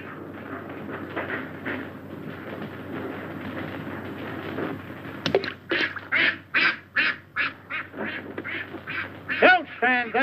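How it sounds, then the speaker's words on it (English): Ducks quack in a quick series of close, loud calls after a stretch of people talking outdoors. "Look at those ducks."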